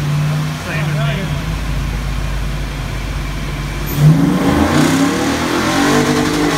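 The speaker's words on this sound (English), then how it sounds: "He's gonna go through the gears." A Toyota car runs on a dyno at a club dyno day, its engine climbing in pitch as it works up through the gears, loud and close, with a sharper surge partway through.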